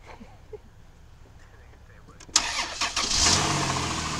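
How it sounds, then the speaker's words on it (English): A 2003 Caravan's engine cranks and catches after a jumpstart, a sudden close rumble that settles into a steady loud idle following a quiet stretch. "All right, so we got it running now."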